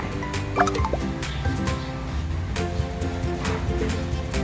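Wet hands press and shape cooked rice into a ball for Korean-style rice balls with grilled pork and kimchi, giving a steady close-up stream of soft squishing and sticky, moist patting.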